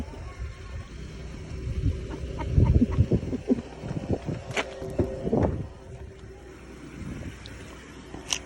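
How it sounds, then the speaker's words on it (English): Chickens cluck and squawk irregularly, fairly close, amid rustling and clatter with a low background hum. "Wow, that's a lot of chickens."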